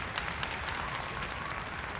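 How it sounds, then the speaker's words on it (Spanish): A standing audience applauds at a formal human rights event, a steady wash of clapping from many hands, fairly far off and even in level throughout. "Los asistentes están de pie, aplauden."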